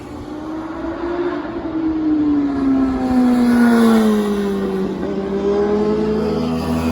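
A lowered car on new suspension drives past with a steady engine note that rises and falls in pitch, fairly close and continuous, with no talk over it.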